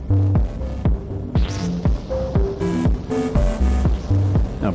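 Plucked guitar notes ring out one after another through a reverb pedal, each trailing into a washy, lingering reverb tail.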